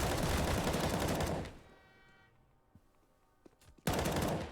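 Rapid automatic gunfire in Counter-Strike on the Train map as a player pre-fires an angle. A loud sustained burst is followed by a quieter lull with faint game sounds, then a second loud burst at the end.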